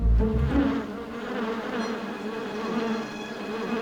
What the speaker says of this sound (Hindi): मेरे दरवाजे के सामने इतना बड़ा मधुमक्खी का छत्ता किसने रख दिया?